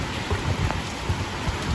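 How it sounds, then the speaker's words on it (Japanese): Heavy rain pours in Southeast Asia, a dense, loud and continuous hiss of drops with faint patters and no voices. "雨強くて帰れないって"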